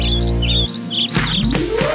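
Cartoon-style bird chirps in a Turkish children's counting song, a string of quick high tweets over a loud synthesized music backing, followed by a rising whistle-like swoop.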